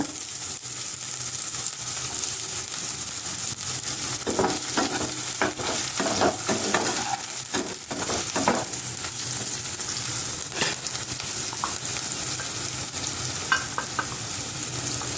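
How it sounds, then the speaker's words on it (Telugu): Four small chopped onions frying in a spoonful of oil, a steady crackling sizzle throughout with intermittent scraping stirs and light clinks of a spoon against the pan, close and continuous with no talk. "ఒక స్పూన్ నూనె వేస్తున్నానండి ఇదిగోండి కోసి పెట్టుకున్న ఉల్లిపాయ ముక్కలు వేస్తున్నాను"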